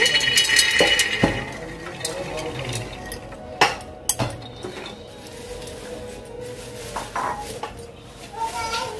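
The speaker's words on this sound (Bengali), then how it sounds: "এবার প্রেসার কুকারটা বসিয়ে নেব।" A pressure cooker is set down on a lit gas stove in a home kitchen. A few sharp metallic clanks and knocks ring out close by over a low background hum.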